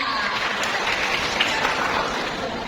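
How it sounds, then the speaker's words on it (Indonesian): Audience applause for the Angklung Ekata group at a children's and youth Easter church service, a steady, dense wash of clapping filling the hall throughout. "Beri tepuk tangan untuk teman-teman kita dari"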